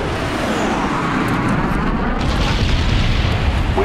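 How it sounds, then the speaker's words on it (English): A bomb strike in Call of Duty Black Ops multiplayer rumbles as a loud, sustained, dense roar of explosion noise filling the whole stretch, with no clear breaks. "Bomb strike incoming."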